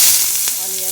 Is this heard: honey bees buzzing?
no